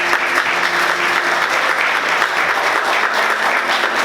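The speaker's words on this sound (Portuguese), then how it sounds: "Vamos aplaudir Jesus bem forte" A church congregation applauds loudly and steadily for several seconds, a dense, even wash of clapping from many hands filling the room with no voices standing out.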